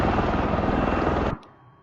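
An MV-22 Osprey tiltrotor in Microsoft Flight Simulator 2024 climbs with a loud, steady rotor and engine roar that cuts off abruptly near the end, leaving a faint hum.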